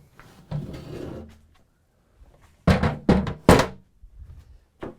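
Heavy parts of a Festool 201065 VAC SYS Clamping SE 1 vacuum clamp module being set down and knocked about, several sharp close thuds and clunks with rustling handling noise between them.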